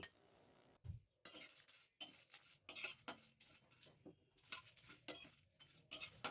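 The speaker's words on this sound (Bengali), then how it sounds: "মশলাগুলোকে শুকনো ভেজে নিচ্ছি।" Whole coriander, cumin, fennel and dried chillies are dry roasted in a pan, heard as repeated short scraping and rattling strokes of a spatula against the metal, each separated by brief pauses.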